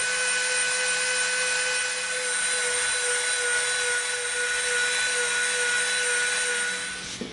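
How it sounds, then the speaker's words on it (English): Dremel rotary tool cutting EVA foam: a continuous high-pitched motor whine with steady buzzing, close and loud, running unbroken for several seconds before briefly dipping at the end, with no speech. "Now we're going to Dremel from that line up to that line right there"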